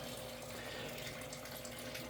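Aquarium water bubbles and rushes in a steady, even hiss that fills the whole stretch, quiet and continuous with no distinct individual pops.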